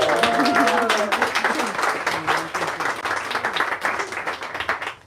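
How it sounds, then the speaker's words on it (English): A New York room of listeners at an author event for Priyanka Mattoo breaks into steady, close applause that tapers into scattered claps, with a voice briefly heard at the start. "You can clap."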